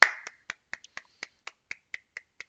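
Sharp, separate claps at an end-of-class sign-off, about a dozen distinct hits in a steady rhythm roughly a quarter second apart, close and crisp with silence between them.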